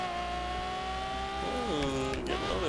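A car engine hums steadily in The Crew video game, then its pitch rises and falls as the car accelerates and shifts, with a continuous close drone and light talk underneath.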